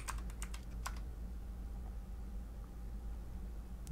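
Code typed on a computer keyboard: a quick burst of crisp key clicks at the start, then near silence with faint background hiss.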